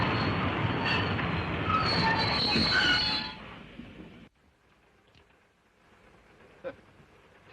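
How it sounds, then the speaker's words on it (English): A steam passenger train in a 1938 film rumbles along the rails with dense, steady wheel noise and squealing, loud and close for about three seconds, then cuts to near-quiet with only faint distant clatter. "For heaven's sake, stop this train."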